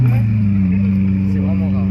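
A Lamborghini Countach S pulls in at a car meet in Saint-Cloud, its engine holding a loud, steady low drone throughout with a slight rise near the end.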